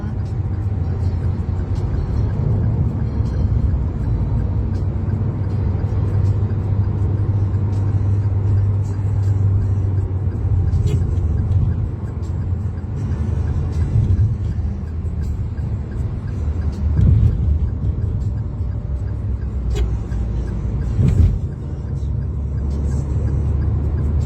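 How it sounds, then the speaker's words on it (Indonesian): Heavy traffic with many trucks heading toward Jakarta on the MBZ toll road makes a steady, dense low rumble of engines and tires that continues throughout, with occasional louder swells as vehicles pass close by. "Banyak banget truknya yang ke arah Jakarta"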